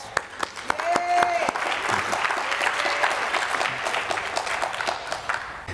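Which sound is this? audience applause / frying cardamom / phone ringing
audience applause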